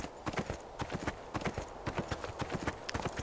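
Horse hooves clip-clopping in a video game, a brisk, steady walking rhythm of close, crisp hoofbeats that runs throughout with little else around it.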